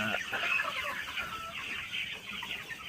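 Sonali super hybrid chickens, 55 days old, cluck and chatter together in a farm shed, a continuous busy flock murmur at moderate distance, fairly faint and without speech.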